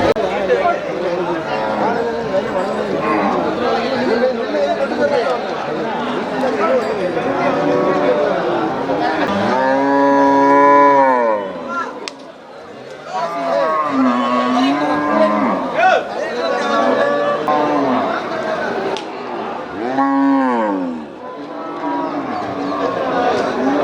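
Kangayam cattle lowing repeatedly at a busy cattle market in Melapalayam, several loud, drawn-out moos rising over a constant babble of people talking and bargaining nearby.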